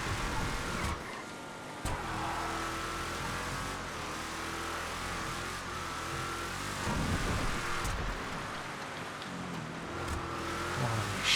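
A race car's engine drones and revs steadily on a track in GTA FiveM, its pitch rising and falling through gear changes across a long, loud stretch with no talk.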